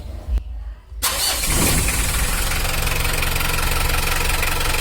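A Mitsubishi L300 diesel van engine starts after a brief quiet gap, then settles into a loud, steady running idle that continues unbroken, its injection pump freshly tuned.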